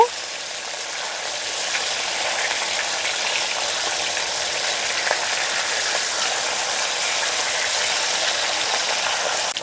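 Hilsa fish frying in hot oil as the pieces are turned over, a steady close hiss and crackle of sizzling that holds evenly throughout with small spatter pops.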